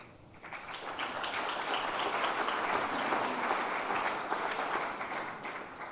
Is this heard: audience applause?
yes